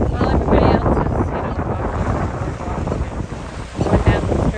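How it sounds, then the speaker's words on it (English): Strong wind buffets the microphone in a steady, loud roar at a Treasure Island, Florida beach, with faint surf beneath and a brief gust swelling near the end. "it's super windy"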